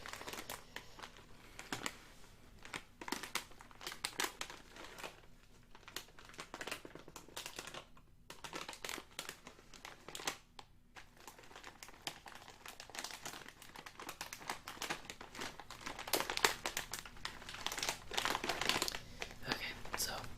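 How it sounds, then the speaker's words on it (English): A bag of Doritos Rainbows chips crinkled and handled close to the microphone, with irregular crisp rustles in quiet bursts and short pauses, growing denser and louder toward the end, with soft speech at times. "The sound that you're hearing is a bag of Doritos, but they are special Doritos."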